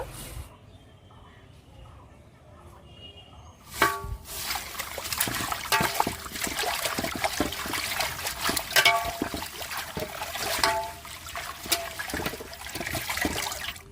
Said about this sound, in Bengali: নিম পাতাগুলো আমি ধুয়ে বেটে নেব